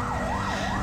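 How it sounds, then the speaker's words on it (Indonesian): An ambulance siren wails continuously, its pitch rising and falling in a smooth, steady sweep. "tika jauhan kadenge hawar-hawar aya sada sirine mobil ambulan"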